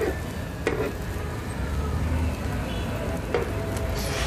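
Egg paratha frying in a pan just after being turned over, a quiet continuous sizzle with a couple of sharp scrape-like clicks from the pan.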